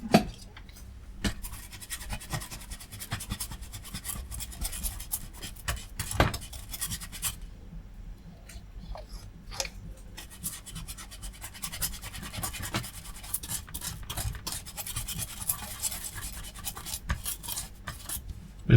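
Ingrained dirt is scrubbed off a retro PC part from a car boot flea market, giving close, continuous scratching and rubbing with scattered sharp clicks.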